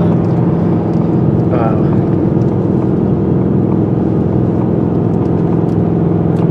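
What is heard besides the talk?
700 hp supercharged Roush Mustang driving cool-down lap on track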